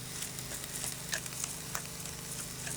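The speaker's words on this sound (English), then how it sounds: "Once the oil is hot, add the peppers and onions." Peppers and onions fry in hot extra virgin olive oil in a pan, giving a quiet, steady sizzle dotted with small crackles and pops and no voices.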